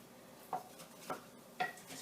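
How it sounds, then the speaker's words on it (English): A spoon stirring a pot of beef stew with carrots, giving several distinct scraping knocks against the pot at a steady, unhurried rhythm, fairly close and moderately quiet with no talking. "you're going to want to give it a really good stir"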